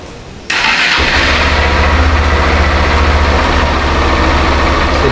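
A Honda XRE 190 motorcycle engine cranks and fires after a brief quiet moment, then settles into a loud, steady close-up idle that runs to the end with no voices.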